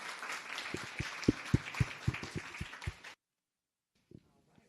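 Audience at a school board candidates forum applauds in welcome, a steady burst of clapping with a few louder hand claps standing out, lasting about three seconds before stopping abruptly, with a faint thud afterward.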